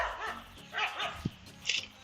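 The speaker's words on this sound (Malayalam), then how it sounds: "ഈ പട്ടി ചുമ്മാ ഇരിക്കണില്ല" A dog in a Kerala home gives a few short, sharp barks and yips, fairly close and moderately loud, spaced irregularly over a couple of seconds.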